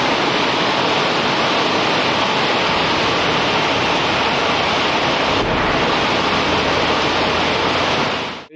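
Heavy rain pours in a steady, dense roar that fills the whole stretch without pause, loud and close, ending abruptly at the end.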